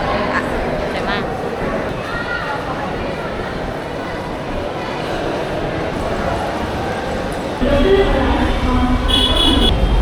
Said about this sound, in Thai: สถานีรถไฟมุมไบค่ะ